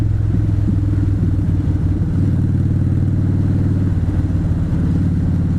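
A motorcycle engine droning steadily and loudly while riding through a small town, a low throbbing hum with slight shifts in pitch and no speech.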